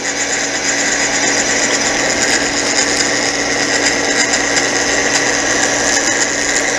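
A Frankford Arsenal Case Prep and Trim Center with a replacement MCJ Tools cutting head trims a cartridge case, giving a steady, loud, close motor whir with a rough cutting rasp and no talk.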